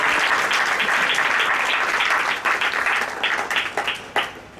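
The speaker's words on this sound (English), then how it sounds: "I want to give a big round of applause." Audience applause at a Rosh Hashanah meditation workshop: a sustained burst of dense clapping that thins out toward the end into scattered claps.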